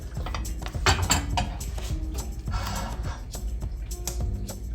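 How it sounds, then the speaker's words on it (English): Cooked noodles go into sauce in a pan while making quick Chinese noodles, with steady clattering of utensils against cookware and soft wet stirring, close and continuous. "Put the noodles in the sauce."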